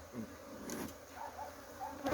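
Honey bees buzz faintly in a low, steady hum inside an opened hive being smoked, several insects droning close by with small shifts in pitch; no talking.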